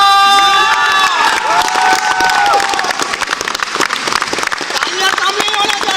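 An audience at a Vestige car achiever event breaks into loud applause and cheering with whoops and shouts, dense and close, while music tones sound over the start.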